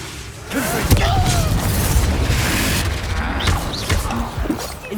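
A Confringo spell explosion in the video game Hogwarts Legacy, a loud booming blast with sustained rumbling crackle and combat effects, close and dense, with brief shouted voices mixed in.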